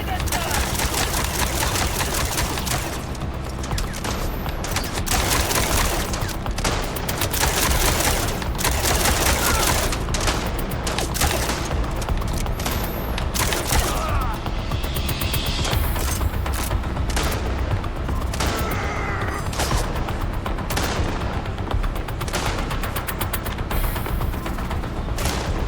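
Nonstop bursts of gunfire aimed at a person crackle and rattle loudly for the whole stretch, with dense overlapping shots and a voice sometimes breaking through the racket.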